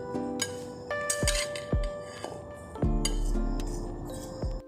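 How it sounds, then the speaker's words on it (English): A fork clinks and scrapes against a bowl while mashing sweet potato dough with butter and egg yolk, repeated sharp metallic taps in an irregular rhythm, close and fairly quiet. "Use a fork to mash and press everything thoroughly until the butter melts and everything combines into a smooth, elastic sweet potato dough"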